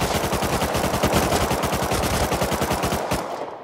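Rapid automatic gunfire from an SMG in a Rust PvP fight, a loud, dense burst of shots running continuously for about three seconds before cutting off abruptly.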